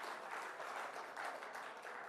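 Steady, dense applause from an audience welcoming guests seated on the dais at a Youth Talk 2022 event in Hyderabad, continuous and fairly soft throughout with no voices on top.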